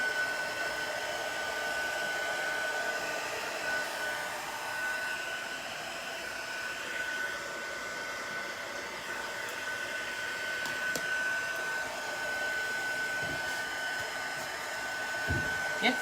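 A hair dryer blows steadily and close by, drying paint on a chalk couture board, with a constant airy whir and a high whine that holds through the whole stretch with almost no talk.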